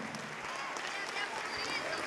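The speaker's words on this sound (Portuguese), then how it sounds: "Vamos aplaudir mais" A church congregation claps steadily, a dense, fairly distant patter of many hands under a talking voice.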